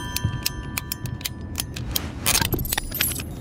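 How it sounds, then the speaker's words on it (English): A Husky ratcheting PVC pipe cutter works through plastic pipe during a leaking-pipe repair, making a close series of sharp, irregular mechanical clicks that crowd together near the end. "Again, you use the husky tool, pretty easy to use. You just keep pressing and you want to cut it"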